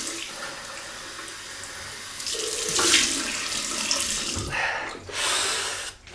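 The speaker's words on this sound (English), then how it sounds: "So I'm going to rinse this with cold water" Cold water runs from a tap into a sink while a razor is rinsed under it, a loud close splashing stream that shifts in tone as the blade moves through the flow, briefly stopping near the end.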